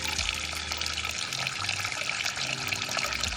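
Tap water runs steadily into a pot to cover salt mackerel, a close, continuous splashing gush with a faint hollow resonance from the filling vessel.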